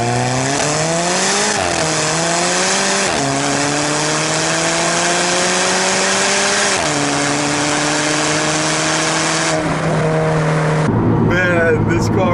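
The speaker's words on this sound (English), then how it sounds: "since we're sitting at the light right now, might as well try the launch control" A 2015 Alfa Romeo 4C launches from a stop using launch control, its engine revving hard and climbing through several rising gear pulls, loud and close, with quick shifts between each surge before easing off at the end.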